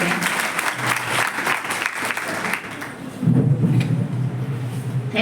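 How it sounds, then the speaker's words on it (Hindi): Loud applause at a school facilitation ceremony welcomes the principal, a dense clatter of many hands for about three seconds that thins out, followed by low rumbling noise and faint room sounds. "कृपया जोरदार तालियों से उनका स्वागत करें।"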